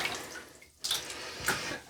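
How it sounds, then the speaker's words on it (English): Water sloshes and splashes as things are rinsed out in a bucket, a few soft splashes broken by a brief pause, close and quiet with no talking. "Now, we rinse everything out in the bucket."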